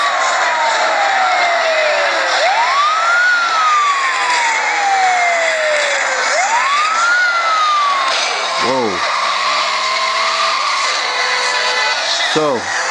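A wailing police siren sweeps up and down in the mobile racing game Need for Speed Undercover on iPhone, sounding loud over a running car engine, with short crash-like bursts near the end.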